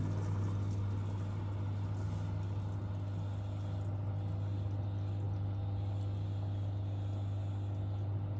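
A Miele W1 washing machine runs a maintenance flush, giving a steady, continuous rush of water and low motor hum that holds at an even level throughout, with no talk.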